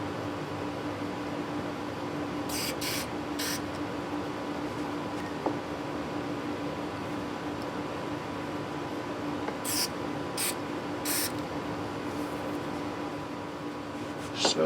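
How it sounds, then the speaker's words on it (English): Two quick sets of short aerosol cleaner spray bursts onto the potentiometers of a 1979 Gibson Flying V guitar, three hisses each, sound close by over a steady background hum. "A little bit of spray might clean that up."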